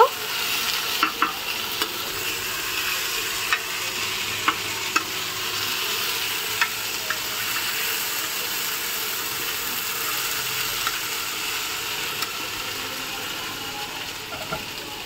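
Tel chorchori, a mixed vegetable dish, frying in oil: a steady close sizzle throughout, with sharp scraping clicks of a spatula stirring at irregular intervals.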